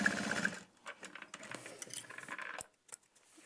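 A sewing machine bastes bag panels in place, giving a short, quiet run of fast stitching that stops and starts, followed by light clicks and handling sounds up close.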